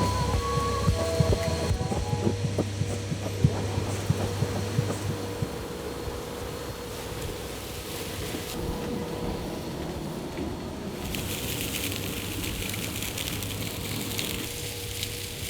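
Insulation blowing machine switched on by remote control, running as a steady broadband whoosh and hum with a low drone, sustained and fairly loud throughout with no talk.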